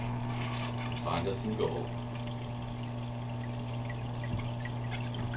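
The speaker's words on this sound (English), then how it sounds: "Let's fire up the sluice." Water pours steadily through a gold sluice outdoors during a night run, a continuous rushing flow under a low droning hum, with a person talking over it.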